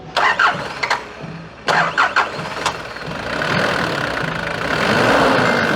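A 1993 Nissan Terrano with a hard-starting engine cranks in short bursts, stops, cranks again in several chugging attempts, then catches and settles into a rough, steady idle, loud and close.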